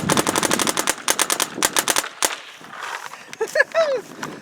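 Rapid bursts of shots from an Etha 2 paintball gun with a Pal loader, sharp repeated pops in quick strings, then a pause with some handling noise and a brief squeak near the end.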